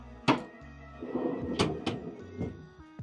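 Empty storage drawers in a Ram truck canopy slide and thunk shut, several sharp knocks and rattling scrapes up close over about three seconds, no talking.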